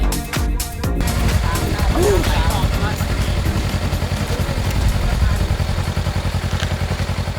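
A motorcycle rides off-road at high speed over muddy ruts in Hua Hin, Thailand: a loud, close engine drone with rapid pulsing and bumps and clatter from the rough ground, continuous throughout.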